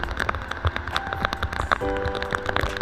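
Rain falls outdoors in a steady patter of scattered drop impacts, with sharp ticks against a surface and a faint tonal hum underneath.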